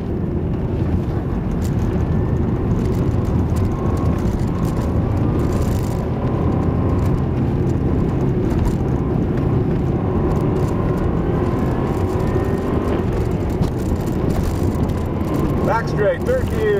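A race car engine screams at full throttle on an ice racing track, held steady and loud in a high gear down the back straight with a constant, droning roar and mechanical rattle throughout.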